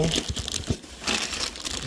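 A plastic bag holding bicycle bar tape for a Birdy P45 folding bike is handled during unboxing, giving close, busy crinkling and rustling bursts while someone talks over it.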